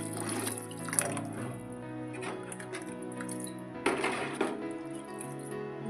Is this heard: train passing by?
no